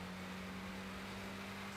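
A Chevrolet car engine in the Gran Turismo 6 racing game drones at a steady low pitch, a faint, even hum that holds constant without revving up or down.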